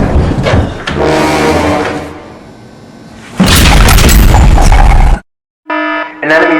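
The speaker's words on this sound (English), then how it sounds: "An enemy vessel just opened fire." Enemy vessel opening fire on a starship: loud booming blasts and explosions with alarm-like tones, broken by a brief silence before renewed bursts, mixed with voices.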